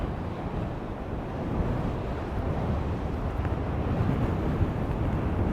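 Strong wind buffets the microphone on a hilltop above the sea in a continuous roaring rush, steady and loud throughout, with no voices.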